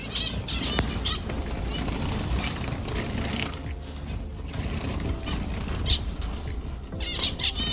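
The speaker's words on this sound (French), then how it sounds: "On a les oiseaux qui est juste ici. Les pinsons." Finches in an aviary flutter their wings in a continuous, busy rustle close by, with a few brief high chirps and calls breaking through now and then.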